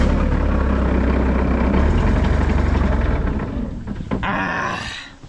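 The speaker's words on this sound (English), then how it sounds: "I'm going to start it up, let it idle for a few seconds, and probably speed it up" A skid steer's diesel engine runs loud and close at a steady idle for several seconds, then falters and dies away, leaving a few brief clanks and a short hiss.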